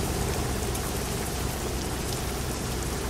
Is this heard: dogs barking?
no